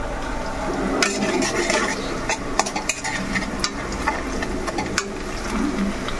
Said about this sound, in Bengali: দেখতে হচ্ছে পেঁয়াজ লাল লাল হয়ে গেছে ভাজি।